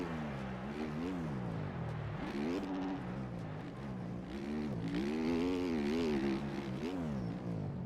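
Dirt bike engine in the motocross racing game MX Bikes, a buzzing two-stroke-like whine that revs up and down in repeated waves as the throttle opens and closes, steady and continuous with no talk.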